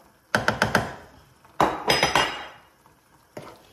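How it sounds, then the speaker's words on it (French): Metal utensil knocking against a pan while spices are stirred into minced meat, a quick cluster of sharp clinks, a second scraping burst, then a lone tap, close and fairly quiet. "Je vais tout bien mélanger avec la viande hachée et je vais laisser cuire."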